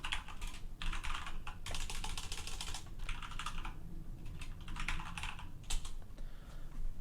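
A recursive grep command for the string password being typed on a computer keyboard in a Linux terminal, heard as bursts of quick, close keystrokes separated by short pauses, with no talking.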